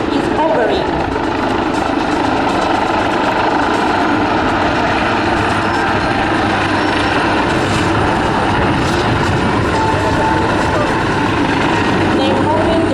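An Italian Air Force Agusta HH-139B helicopter hovers with its doors open during a rescue demonstration at Athens Flying Week 2025, its loud rotor and turbine roar steady and close for the whole stretch.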